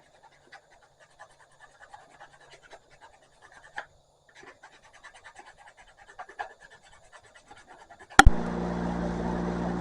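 Knife scales sanded by hand with 220 grit sandpaper on a small block, faint scratchy strokes coming in short irregular bursts close up, then a sudden loud burst of broadband noise near the end.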